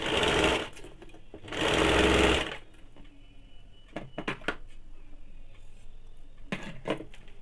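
A sewing machine stitches a kaftan nightie, with two loud, steady bursts of rapid running, then quieter clicks and clatter of handling the fabric and machine close by.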